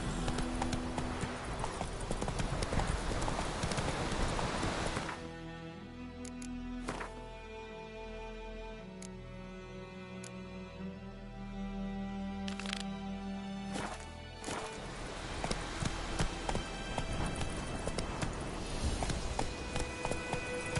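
Roach, Geralt's horse in The Witcher 3, trots along with steady hoof clip-clops under game ambience and music, the hooves easing to a slower, quieter stretch in the middle before picking up again.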